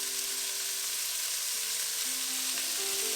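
Vegetables hit a hot buttered pan for red beans and rice and sauté with a steady, loud sizzle. Faint scraping and stirring sounds run through it, and a few pitched tones come and go under the frying. No one talks.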